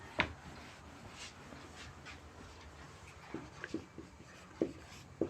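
Faint scratching and soft taps of an equation being written out by hand, in a quiet room with light background hiss.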